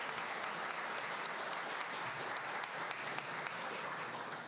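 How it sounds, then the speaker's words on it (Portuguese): An audience at an academic session of the University of São Paulo public health faculty claps for a speaker being introduced, a steady, moderately quiet stream of many hands that continues evenly throughout. "Uma salva de palmas para ela, gente"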